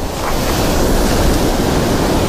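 Ocean surf washing onto a Southern California beach during surf fishing, a steady, close, full roar of breaking water with no letup and no voices.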